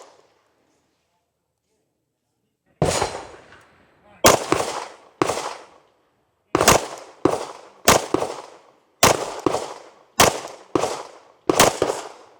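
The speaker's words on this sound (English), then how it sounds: "I'm actually just gonna take my time and take the shots." A Jacob Grey Hex Pro 2011 pistol fires about ten sharp, loud shots at a target outdoors, spaced unevenly with short pauses after an initial quiet stretch.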